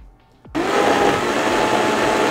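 A blender abruptly switches on after a short quiet moment with a faint clink, then whirs loud and steady close by while pureeing a vegan pasta sauce with basil.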